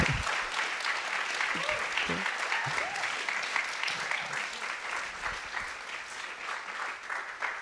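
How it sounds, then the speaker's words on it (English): An audience applauds at a live talk, a dense, steady wash of clapping lasting several seconds, with a few voices speaking briefly near the start. "Yeah, round of applause,"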